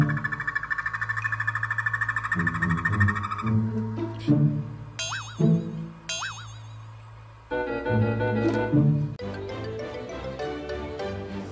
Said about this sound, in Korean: 개구리 울음소리를 들려주면 운다고 하는데 이제 따라 울어요.